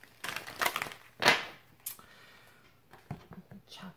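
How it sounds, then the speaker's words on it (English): Tarot cards being shuffled by hand, with several short papery riffles and slaps in an uneven rhythm, close and fairly quiet, with a brief soft voice near the end. "We'll give a couple more of these shuffles."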